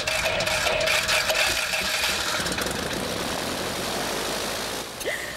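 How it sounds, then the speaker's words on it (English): Steady engine drone from inside a small plane in flight, loud and continuous with broadband cabin noise and no talking. "I've never been in a plane this small before"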